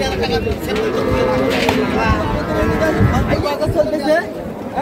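Cows, including Sahiwal, Sindhi and local dairy breeds, moo loudly at a busy Comilla cattle market, with repeated calls rising over constant crowd chatter and nearby talking.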